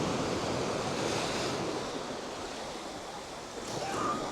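Sea waves at Sunny Sands beach in Folkestone with the tide in, a continuous broad wash of surf with some wind noise, steady and fairly loud throughout.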